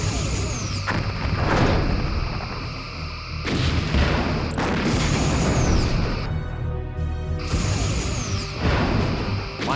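Starship torpedoes strike and destroy an outpost in Star Trek: Bridge Commander, heavy booming blasts and crashing explosions repeating over several seconds, loud and close amid game effects.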